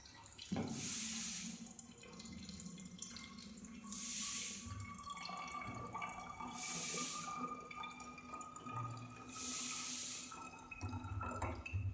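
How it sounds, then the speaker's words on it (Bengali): Tap water running into a container indoors, a quiet continuous stream broken by four regular bursts of brighter splashing as the flow surges, with faint drips between. "এর ভেতরে জল ভরতে ভরতে মনে হচ্ছে যেন সারাদিন লেগে যাবে।"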